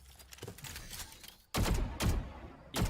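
Gunfire in the tactical shooter Valorant during a professional match: scattered softer shots at first, then three loud heavy bursts of rapid fire after a brief gap.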